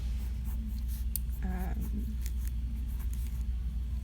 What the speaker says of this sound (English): Just doing some quick warm-up sketches this morning